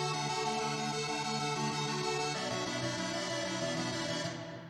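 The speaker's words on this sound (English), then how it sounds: "it is basically a very reduced kind of Supersonic synthesizer." Blackbird free synth plugin, a reduced Supersonic clone, playing a buzzy square-wave sustained chord that shifts pitch midway and fades at the end, heard alone.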